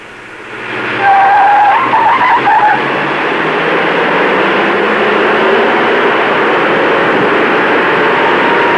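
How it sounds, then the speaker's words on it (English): A Chevrolet Impala with a 283 V8 races a Ford Galaxie 352, engines roaring loudly with a short tire squeal early on, then a sustained, steady drone of cars speeding past. "Let's take a smaller Impala, the 283 V8, and see what it can do against the Galaxy 352."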